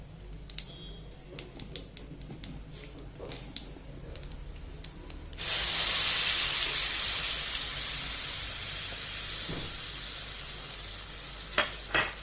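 Hot tempering oil ticks and crackles quietly, then a loud, steady sizzle bursts up as ground chana dal hits the pan and keeps frying.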